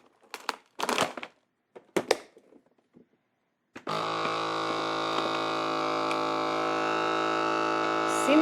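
Vacuum sealer drawing air from a bag of freeze-dried creamy beef noodles: crinkling plastic handling first, then a steady loud motor hum that starts abruptly and runs continuously to the end.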